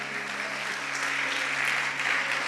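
Steady, dense clapping from a church congregation at a Christmas service fills the room, loud and continuous, with a faint low tone held underneath.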